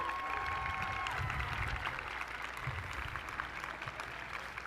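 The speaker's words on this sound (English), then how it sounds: "please show your thanks and applaud these dedicated individuals who have guided you" Graduates at a fall commencement ceremony applaud their faculty, giving a soft, steady wash of clapping from a large crowd that sounds somewhat distant and gradually fades.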